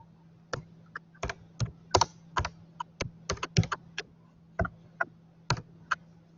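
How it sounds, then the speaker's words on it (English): Keys tapped on a computer keyboard in an irregular run of crisp clicks, some clustered quickly and others spaced apart, with a low steady hum underneath and no talking. "Is somebody typing it?"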